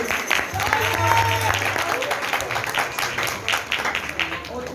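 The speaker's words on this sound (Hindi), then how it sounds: "इसके लिए लगा ताली" Children and adults clap at a church Sunday school prize distribution in a sustained burst of applause, with voices and crowd murmur audible over and under the clapping.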